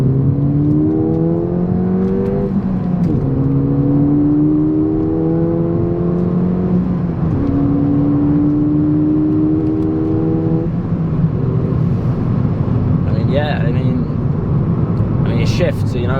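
A Ford Fiesta ST is driven hard on open road, its engine note climbing loudly through the revs, with brief dips at gear changes before it pulls again under a steady road roar.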